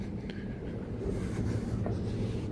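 Low, steady rumble of a metro train in Lyon Part-Dieu station, faint and continuous with slight swelling partway through and no talk.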